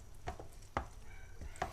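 Ground chicken being stirred and mixed with fresh basil, giving a few soft squishy, scraping strokes at a steady pace, close and fairly quiet.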